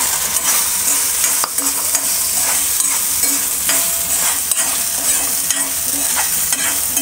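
Sago pearls sizzle and fry in hot ghee while a spoon scrapes and stirs them around the pan, a loud, close, continuous crackle with rhythmic stirring knocks.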